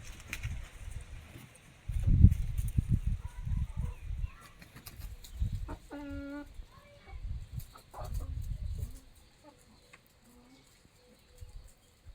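Chickens on a village farm cluck in short bursts near a rooster pen, with a broody hen among them, over low rustling and murmuring voices.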